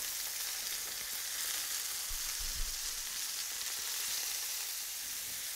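Rabbit burgers frying in a pan give a steady, bright sizzle and crackle, with a couple of soft low bumps midway as they are moved or turned, and no talking.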